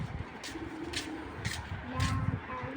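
A female racing pigeon coos softly and repeatedly at close range while being held, in low throaty pulses. Brief rustling bursts from the handling come and go, and someone speaks faintly in the background.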